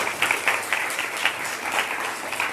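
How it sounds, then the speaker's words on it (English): A church congregation at a Sunday service claps for a member's birthday, a lively burst of many hands with scattered louder claps and whoops, moderately close and sustained. "Applause is great, but shall we sing?"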